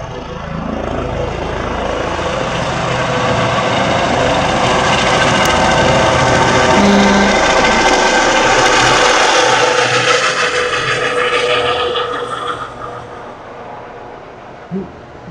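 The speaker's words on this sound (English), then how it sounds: "Okay, the helicopter is having a problem or what?" Ambulance helicopter struggling to land in strong wind in Berlin, a steady loud rotor and engine roar mixed with wind buffeting, holding for most of the stretch before easing off near the end.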